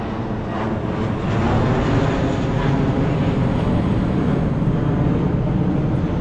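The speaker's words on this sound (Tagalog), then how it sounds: "Oy, eroplano!" An airplane passes overhead near the Mall of Asia in Manila, a steady, loud broadband roar that holds evenly throughout with no clear rise or fade.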